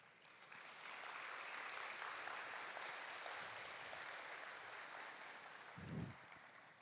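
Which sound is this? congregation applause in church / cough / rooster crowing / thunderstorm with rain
congregation applause in church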